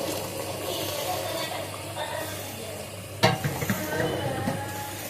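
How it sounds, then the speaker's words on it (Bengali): Hot water poured into nearly browned meat in a pot for biriyani sets off a steady close sizzle and stirring scrapes, with a sharp burst of crackle partway through as the liquid hits the hot pan. "আমি এখন দিয়ে দিব সামান্য গরম পানি।"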